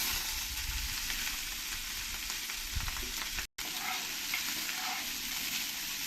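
Rice tipped into a pan of hot oil with salt and turmeric, a continuous sizzle with stirring scrapes and a brief pause partway through, no talking.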